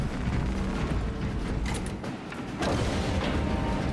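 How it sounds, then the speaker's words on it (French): A heavy door grinds and creaks open in Warhammer 40K Space Marine 2, a steady loud mechanical groan with dense low rumble running the whole time and no voices. "La porte est en train de s'ouvrir."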